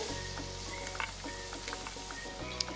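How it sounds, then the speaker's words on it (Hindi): Chopped onion sautéing in a pan for a summer thali gives off a quiet, steady sizzle with a few soft stirring scrapes and pops, and no voices over it. "अब इसमें डालेंगे प्याज, थोड़ा सौटे कर लेंगे।"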